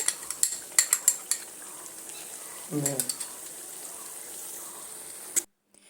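Onion, cashew and yogurt paste stirred in a pan for an egg chaap curry: a run of close metal spoon scrapes and clinks over a soft steady sizzle, then a burst of cooking noise before it cuts off.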